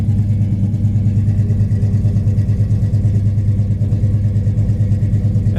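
Idling 1970 Pontiac LeMans V8 rumbling through a new 3-inch dual exhaust, a steady, loud low-pitched burble with an even pulsing rhythm throughout, close by and without voices.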